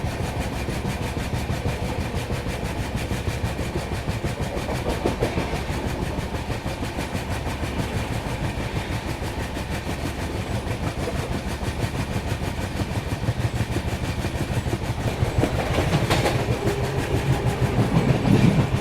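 A Duronto Express train running along the rails on a foggy route, a steady rumble with rhythmic wheel clicks that continues without break and swells slightly louder toward the end as the train slows.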